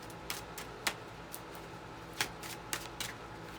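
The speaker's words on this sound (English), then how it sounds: "I'm just using my tarot cards" A tarot deck is shuffled by hand up close during a card reading, giving quiet, soft papery riffles with several sharper slaps of cards at uneven intervals. No one speaks over it.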